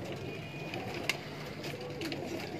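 Pigeons at a breeder's loft in Lahore coo softly in the background, low murmuring calls mixed with a steady hum and a sharp click partway through.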